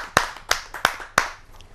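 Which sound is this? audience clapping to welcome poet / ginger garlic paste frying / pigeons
audience clapping to welcome poet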